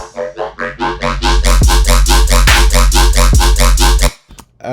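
A heavy riddim bass synthesized in Serum throbs in a fast, wobbling rhythm, loud and gritty, with a deep sub-bass underneath, then cuts off abruptly.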